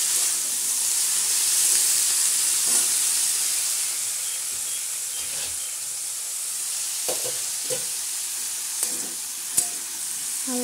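Fish-head mixed vegetables and greens sizzle and frying in a pan while being lightly stirred, a steady hiss with occasional scraping clicks of the spatula, close and continuous.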